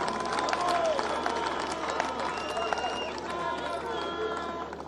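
A crowd at a university inauguration ceremony claps and cheers continuously, a dense wash of applause with scattered voices mixed in, fairly loud and steady throughout.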